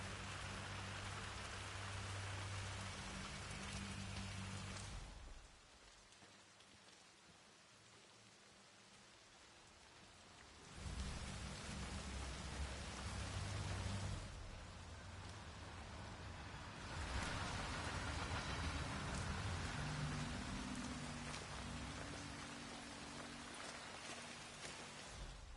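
Steady rain hissing down in the Hitman video game, broad and continuous at close range, dropping out briefly and then returning. No distinct thunder rolls stand out.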